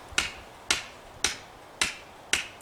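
An axe strikes the chamfered top of a wooden tent stake five times at a steady rhythm, each hit a sharp, fairly close knock in a quiet outdoor setting.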